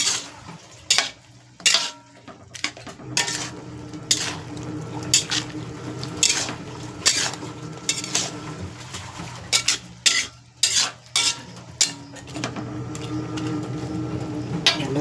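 Vegetables for pancit bato tossed and stirred in a pan: irregular metallic clanks and scrapes of a utensil against the cookware over a low background, close by and sharp, with no talking.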